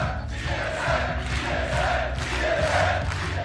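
Stadium crowd at a League of Legends Worlds esports event chanting in loud, sustained rhythmic waves, a dense roar of many voices that swells and holds throughout without any single speaker standing out.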